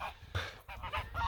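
Geese honking nearby in a spring farmyard, several loud overlapping calls in short bursts across the moment with no speech.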